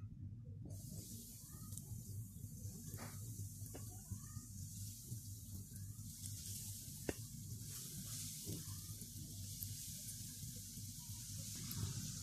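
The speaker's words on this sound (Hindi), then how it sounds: "अब हम इसे फ्राई कर लेंगे।" Coated chicken nuggets fry in hot oil over a medium-low flame, making a steady, dense sizzle that continues throughout with small crackles scattered over it.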